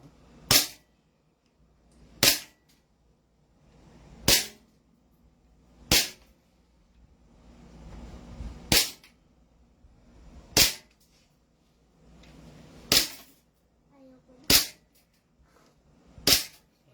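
Airsoft replica rifle or pistol of the M4A1 or Glock type fires nine sharp, close single shots at a steady pace of roughly one every two seconds, with quiet gaps between.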